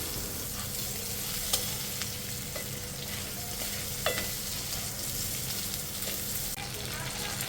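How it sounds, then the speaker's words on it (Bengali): Chicken strips frying in butter in a pan for creamy cheese pasta, a steady, dense sizzle throughout with occasional light stirring clicks. "এখন এটা ভালো করে ভেজে নিব"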